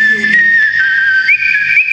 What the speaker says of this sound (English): just a little whistling break